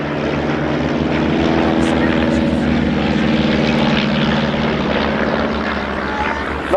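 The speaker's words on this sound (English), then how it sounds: "Chipmunk in the lead is Golf Bravo X-ray Delta India." A Chipmunk aircraft flies in formation at a 2005 Woodchurch air display, its propeller engine giving a loud, steady, close droning roar that holds without a break throughout.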